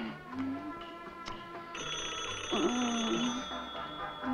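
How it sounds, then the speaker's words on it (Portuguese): A telephone rings with repeated electronic tones over steady background sound, without talk. "Coloco agora o telefone."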